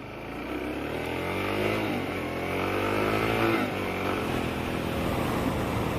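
A Suzuki DRZ400 motorcycle accelerates steadily from the rider's seat, engine pitch climbing and dipping through gear changes under continuous wind rush, loud and close throughout.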